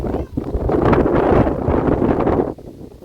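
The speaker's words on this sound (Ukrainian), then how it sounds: "Вітер." Strong wind in a flower garden in Dnipro, Ukraine, buffets the microphone in a loud, continuous roar that drops off abruptly near the end.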